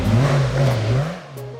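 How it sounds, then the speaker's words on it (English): Rally car engines rev hard at the Goodwood Festival of Speed, a loud, close, rising and falling drone with one brief lift near the end and no voices over it. "the unmistakable sound of rally cars being driven exactly as they were intended"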